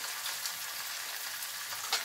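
Potatoes fry in a pan with a soft, steady sizzle of oil and a faint scrape of stirring near the end, quiet and without talk.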